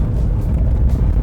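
A 2008 Fiat Palio 1.3 Multijet diesel engine accelerating, heard as a loud, dense, low-pitched rumble held steady for about a second, with no voices over it.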